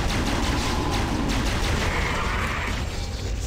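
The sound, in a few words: Hunter cannon shots in the video game Halo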